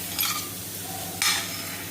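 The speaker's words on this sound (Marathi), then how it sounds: "छान भाजून घ्यायचं आहे सर्व मसाले." Spices and salt are stirred and roasted in a pan for a river fish curry, with two quick scraping stirs standing out over a low, steady sizzle.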